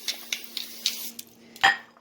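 Metal cake baking pans, two of them for a double-layer cake, are handled in a home kitchen, giving a series of light close clinks and taps followed by one louder clatter, with no talking.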